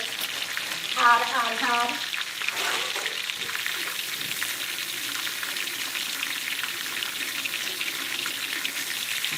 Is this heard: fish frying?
yes